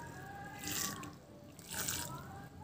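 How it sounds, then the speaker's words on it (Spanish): Water trickles lightly onto soil in a potted marigold (cempasúchil) seedling, two soft pouring bursts a second apart, close and gentle, with no talking. "le damos otra leve regadita, pero muy leve porque ya tienen agua"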